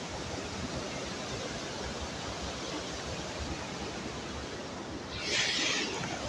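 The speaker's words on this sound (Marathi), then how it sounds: "बघू शकता इकडनं पण पाणी मस्त जात आहे" Water flowing in a stream, a steady broadband rushing wash of moderate loudness throughout, with a brief brighter surge near the end and no talking.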